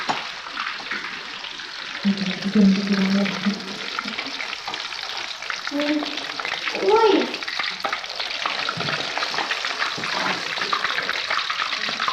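Beef kofta fry in hot oil with a constant crackling sizzle. Faint voice-like tones and soft stirring sounds rise briefly above it.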